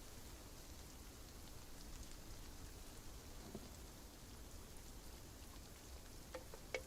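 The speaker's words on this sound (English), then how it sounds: "hopefully now you can hear the rain" Steady rain falls throughout as a quiet, even hiss with no talk over it, and a few faint taps or crackles stand out near the end.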